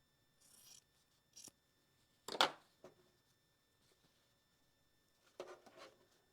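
Quilt fabric block pieces being trimmed with scissors, a few short separate snips and rustles with quiet gaps between them.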